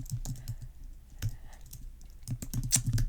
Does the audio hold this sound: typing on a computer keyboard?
yes